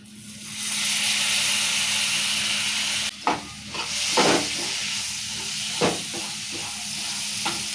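Poha chivda being mixed with turmeric and salt in a pan: a steady hiss and sizzle, then several short scraping stirs and clinks close by, with no talk.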